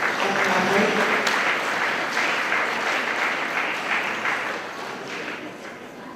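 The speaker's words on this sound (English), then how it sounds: "Let us clap for you." An audience claps for a speaker at a formal gathering, a broad sustained round of applause that gradually fades toward the end, with faint voices underneath.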